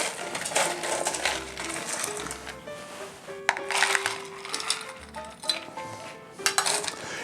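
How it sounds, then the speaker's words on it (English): Fresh ice is added to a copper mule mug for a blueberry Moscow mule, giving several clinking and rattling impacts of cubes against metal in quick bursts, fairly close and clear with no talking. "We'll top this off with some fresh ice."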